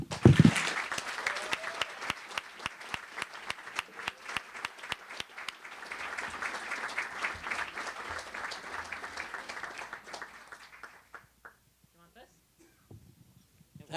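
An audience at an evening Yale event applauds to welcome speaker Nick: dense, sustained clapping for about eleven seconds that thins out into a few scattered claps.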